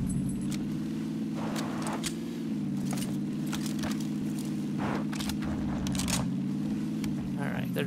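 A vehicle drives around in PUBG with a steady droning engine hum throughout, moderately loud and unbroken, with scattered clicks and small thuds on top and a person talking now and then.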